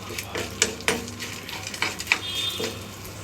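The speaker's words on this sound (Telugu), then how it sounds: "1 టేబుల్ స్పూన్ జీలకర్ర, 1 టేబుల్ స్పూన్ ధనియాలు వేసుకొని ఫ్రై చేసుకోవాలి." Cumin and coriander seeds frying in a pan alongside chana dal, with soft sizzling under repeated scraping and clinking of a spoon stirring against the pan, close and moderate.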